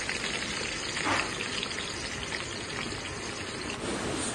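A medium onion hisses and sizzles as it drops into four tablespoons of hot oil in a kadhai, a steady dense crackle of frying with a brief louder burst near the start.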